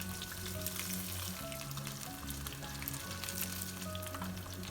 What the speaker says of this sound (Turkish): Kalan balıkları da aynı şekilde kızartıyoruz.